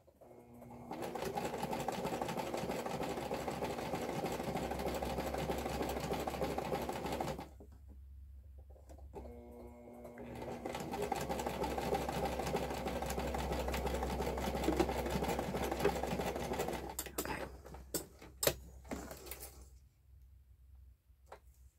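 A sewing machine top-stitches a fabric purse in two long, steady runs of rapid mechanical chatter, with a short pause between them, followed by a few scattered clicks and handling knocks.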